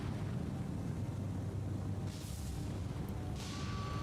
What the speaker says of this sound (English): Good secondary explosion on that rearmost destroyer.